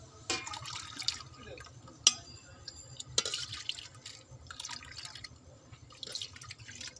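A spiced mint drink mixture, stirred with black salt and spices, is poured out in soft, irregular splashes and drips, quiet and close.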